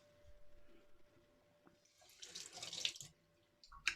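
Tap water runs steadily into a sink while a face is rinsed clean after shaving, a soft rushing that swells louder near the end, with brief splashes and no talking.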